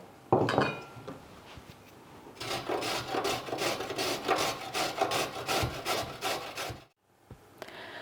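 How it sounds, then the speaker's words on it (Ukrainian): A carrot rasps across a metal grater in quick, even back-and-forth strokes, a close and steady scraping that runs for several seconds before it stops, with a sharp knock just before. "Порізали цибулю, тепер натремо моркву."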